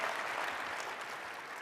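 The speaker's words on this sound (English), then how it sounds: "One more round of applause." Applause from a conference audience for the morning's speakers, a dense, even clapping that is steady and moderately distant throughout the short stretch, with no talking over it.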